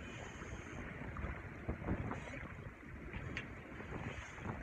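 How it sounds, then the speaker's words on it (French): Sea water rushes and swishes softly against a moving sailboat crossing the English Channel, mixed with gusty wind noise, fairly faint and continuous. "le bruit de soie froissée de la vague"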